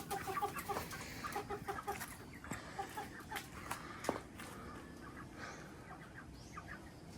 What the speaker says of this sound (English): So every morning I come down and let the chickens out.